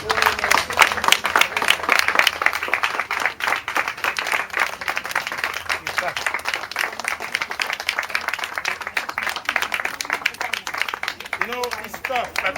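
An audience at a gathering in New York applauds for a long stretch, producing a dense, sustained patter of many hands clapping, with scattered voices and cheers rising from the crowd underneath.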